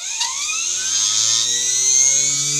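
A Stargate motor spins up hard toward high RPM, its steady whining tone climbing in pitch with rising harmonics, loud and close with no voices over it.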